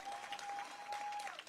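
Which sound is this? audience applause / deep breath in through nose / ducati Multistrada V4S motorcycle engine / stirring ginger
audience applause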